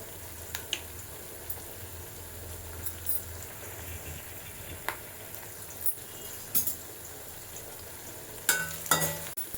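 Onion pieces with turmeric sizzle in a pan for a potato-tomato curry, a continuous soft crackle broken by occasional clatters of stirring.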